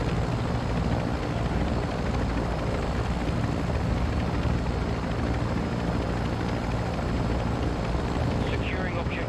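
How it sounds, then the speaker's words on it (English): Helicopter in the video game Call of Duty: Modern Warfare II, a steady low rotor drone mixed with dense battlefield noise, loud and continuous throughout. "helicopter"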